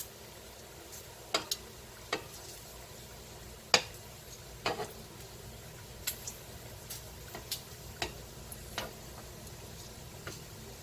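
Food cooks on a BroilKing PCG-10 electric griddle with a faint, steady sizzle, broken by scattered small ticks and pops at irregular intervals; quiet and close, with no talking.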